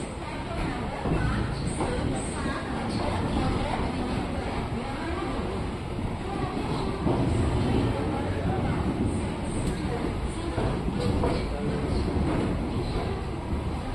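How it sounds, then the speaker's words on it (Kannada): The Chamundi Express runs out of Mysore with a steady, broad rumble of carriage and track noise throughout. Someone speaks over it the whole time. "6 ಗಂಟೆ 45 ನಿಮಿಷಕ್ಕೆ ಬಿಡ್ಬೇಕಾಗಿರೋ ನಮ್ಮ ಟ್ರೈನು 6 ಗಂಟೆ 41 ನಿಮಿಷಕ್ಕೆ ಬಿಟ್ಟಿದೆ ಮೈಸೂರಿಂದ"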